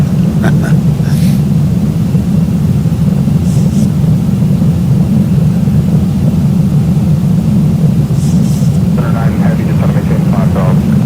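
An airliner's engines drone steadily in the X-Plane flight simulator on a night flight from San Francisco to Palm Springs, a loud constant low hum with faint clicks and brief voice traces over it.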